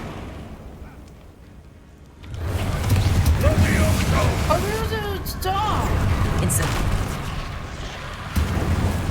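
In the video game Hogwarts Legacy, an Incendio fire spell bursts out with a sudden loud whooshing roar that settles into a sustained crackling rush, with a voice calling out over it.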